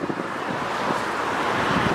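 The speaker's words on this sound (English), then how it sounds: "Now it's just raining and it's windy." Steady wind and rain outdoors in St. Petersburg on a cold day, a broad continuous rush with wind buffeting the microphone, fairly loud and unbroken, with no talking.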